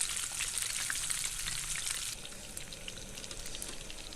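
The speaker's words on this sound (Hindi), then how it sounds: "तो इस तरह इसको तकरीबन 5 से 7 मिनट फ्राई करेंगे ऑयल में" Masala-coated fish frying in oil over medium heat, a steady dense sizzle with crackling bubbles, loud for about two seconds and then settling into a softer, continuous fizz.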